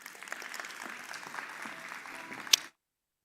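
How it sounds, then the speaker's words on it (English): A crowd applauds warmly to welcome a speaker at the NEV Summit 2025, a steady, dense patter of many hands with one sharp clap near the end before it cuts off abruptly into silence. "Let's give him a warm round of applause."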